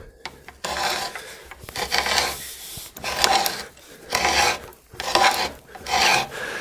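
A wooden nut is twisted onto a threaded wooden dowel bolt, making loud, rhythmic rasping scrapes in repeated strokes with short pauses between turns.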